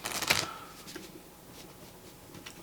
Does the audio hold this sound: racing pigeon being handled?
no